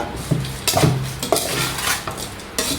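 A spoon stirring a spicy Thai cricket and green mango salad in a bowl, a few distinct scraping clinks spaced irregularly over a soft background hiss, close and alone.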